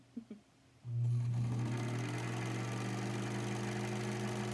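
An Elna Supermatic sewing machine stitching through two layers of felt starts up after a couple of faint clicks, then runs as a loud, steady motor whir with a rapid needle rattle close by, with no talking.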